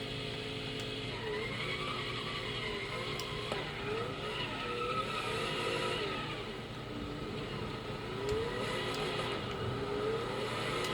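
A car driving hard with tires skidding and squealing: a continuous engine whine rising and falling over about eleven seconds, with repeated sliding squeals and a few sharp clicks, fairly faint and with no talking.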